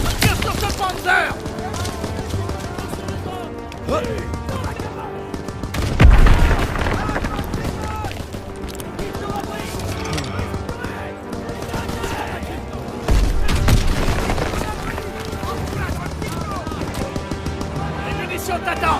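Gunfire and explosions against a Panzer tank in Call of Duty WWII: dense rattling fire and heavy booms, with two especially loud blasts, all mixed under shouted voices and a constant battle din.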